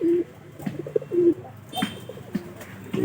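Teddy pigeons kept in numbered coop boxes at a home loft coo softly and repeatedly nearby, several short low cooing calls spaced across a few seconds with light background rustling.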